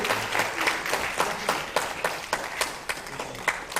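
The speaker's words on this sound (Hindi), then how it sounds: "तालियां बजे इनके लिए, आशीर्वाद करो" An audience at a public ceremony in Patna applauds, an uneven patter of many hands clapping with sharper individual claps standing out, moderately loud and steady.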